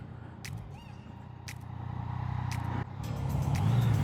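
Steady low engine drone and wind rush from a motorcycle cruising on a highway, growing gradually louder over a few seconds, with brief higher-pitched whooshes of passing traffic and no talking.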